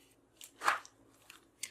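Scissors snipping through red cardstock circles for a Christmas card, a few faint, quick cuts at close range, one sharper snip standing out among softer clicks in a quiet room.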